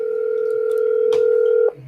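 A steady dial tone on a phone line while a call is being placed, loud and continuous, cut off abruptly near the end, with a brief click partway through.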